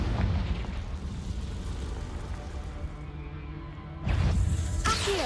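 A Confringo blasting spell goes off in Hogwarts Legacy, a loud booming explosion with a rumbling tail that fades, then a second sharp burst near the end.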